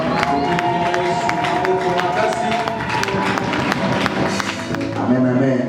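Church congregation at a Sunday worship service cheering and acclaiming together, a dense, sustained crowd roar with scattered claps and music running steadily throughout.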